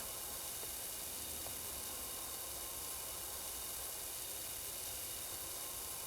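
Water from a pressure washer sprays onto tiles in a power washing video game, a steady, faint, even hiss that continues unbroken for several seconds with no talk.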